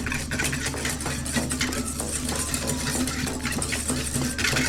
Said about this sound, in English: I'm going to whisk all that together.